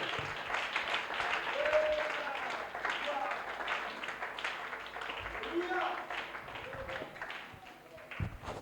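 A church congregation applauding in praise during a service, a steady crowd clapping that carries on throughout under loud talk and voices.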